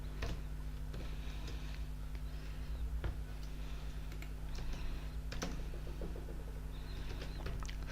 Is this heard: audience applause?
no